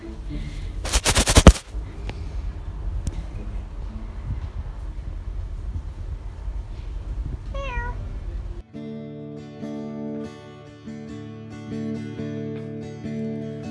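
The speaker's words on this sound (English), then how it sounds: "Look at these cats." Cats meow a few times in a quiet outdoor spot in Greece, rising calls close by over soft background noise, followed by a sudden switch to steady tonal music.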